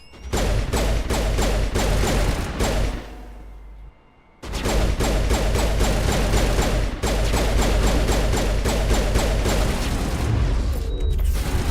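Garrus's assault rifle in Mass Effect fires in long, dense bursts of loud, rapid shots, with one short pause before the fire resumes and keeps going to the end.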